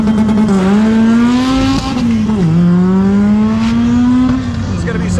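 A big-tire drag truck with a 533 cubic inch engine revs hard at the tree while racing an RC car, one loud sustained engine drone that sweeps up and dips through gear changes, close and dominant with no talk.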